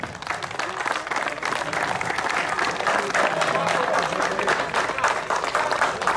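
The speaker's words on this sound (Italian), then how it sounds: "Un grosso applauso a Mariolino Fava." A crowd at a mini slalom motorsport event in Torano Castello applauds in sustained, even clapping at moderate loudness, with a voice faintly present beneath.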